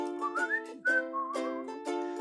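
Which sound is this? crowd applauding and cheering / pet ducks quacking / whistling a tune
whistling a tune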